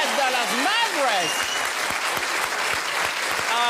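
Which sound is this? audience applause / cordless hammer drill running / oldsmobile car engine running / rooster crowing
audience applause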